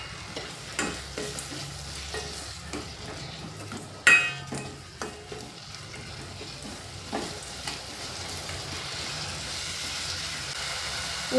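A spoon stirs tomatoes with turmeric and salt in a hot pan while they soften. Gentle frying sizzle runs underneath, broken by intermittent scraping clicks and one sharp knock.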